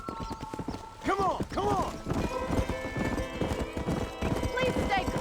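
Horse hooves clip-clop across the ground in the Red Dead Redemption video game, a run of steady hoofbeats joined by a couple of whinnies, while a voice speaks over them.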